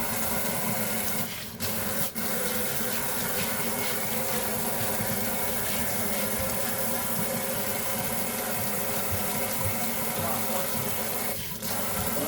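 A steady stream of tap water gushes and splashes while a Yorkie named Coco is bathed, with faint rubbing sounds throughout and no talking.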